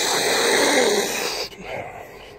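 A person forcefully sniffing liquid up the nose, a loud, close, sustained rasping inhale that cuts off sharply, followed by a quieter wet snuffle.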